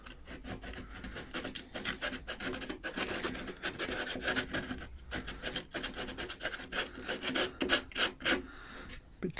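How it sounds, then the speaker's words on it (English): Sandpaper rubbing on a wooden part of a hospital bed being refinished, quiet rhythmic rasping strokes repeated at a steady hand pace, close up with no talking. "Then I'll be able to sand that round."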